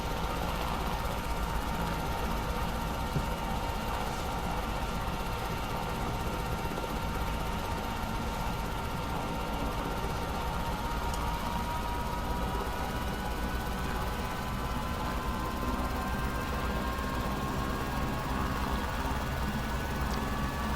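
Simulated aircraft engine in the X-Plane 12 flight simulator spooling up, a steady, dense mechanical drone with tones that slowly rise in pitch, heard alone for the whole stretch without talk.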